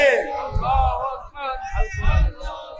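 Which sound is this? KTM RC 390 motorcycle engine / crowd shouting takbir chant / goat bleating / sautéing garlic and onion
crowd shouting takbir chant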